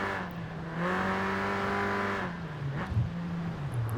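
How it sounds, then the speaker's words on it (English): Toyota AE86 engine held at full throttle uphill in Forza Horizon 4, a loud sustained rasping drone that climbs in pitch, then drops and wavers as the car slides, with faint tire noise. "Going full throttle."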